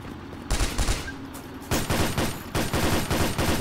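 Bursts of rapid automatic gunfire in the video game Enemy Territory: Quake Wars, several short volleys of close, loud shots separated by brief pauses.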